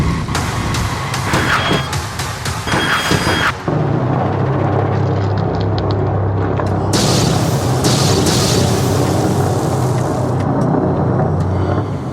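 A film explosion from an incoming airstrike sets off loud, deep booms followed by a sustained low rumbling roar, with no speech.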